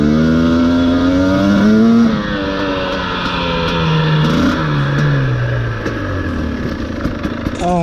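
A 72V YZ250 electric dirt bike fitted with an E&C QS138 EMX kit whines as it rides hard, its motor pitch climbing and falling through sweeping glides, loud and close, with no voices over it.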